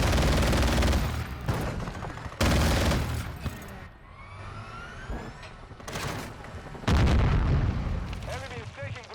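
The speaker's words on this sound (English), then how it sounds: "Or explosive rounds on sniper rifle." Explosive sniper rounds fired in a multiplayer video game, heavy booming blasts recurring at intervals with rumbling aftermath and whooshing sounds between, mixed with game noise and faint voices.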